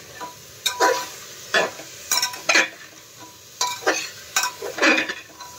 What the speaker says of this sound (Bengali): এটা একদম হাই ফ্লেমে দিয়ে করবেন নাড়াচাড়াটা।